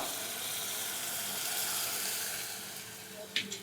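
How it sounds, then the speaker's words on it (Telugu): Water poured into a pan of roasted wheat rava for upma, a steady soft rushing pour with faint sizzling that tapers off, ending with a brief clink near the close. "ఇప్పుడు వాటర్ పోసుకుందాం మనం దీంట్లో"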